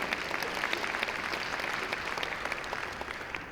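Steady applause from a luncheon audience holds at an even, fairly subdued level for a few seconds, with no talk over it.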